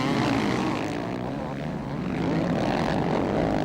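Motocross world championship motorcycles, four-stroke and two-stroke machines, race in a dense, continuous engine drone that swells and dips slightly, loud and sustained throughout.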